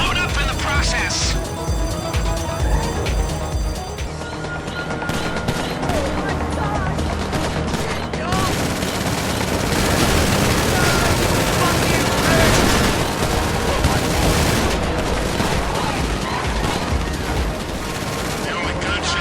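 Dense, continuous gunfire and explosions from a GTA Online heist mission, with rapid overlapping shots and booms at steady high volume throughout, mixed under game music and effects.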